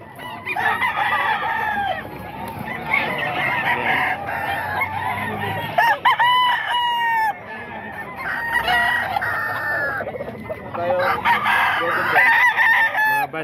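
Pure SBR gamefowl roosters at a Bocaue tiangge market stall, several birds crowing repeatedly in overlapping calls with clucking between, close and loud, with faint talk in the background.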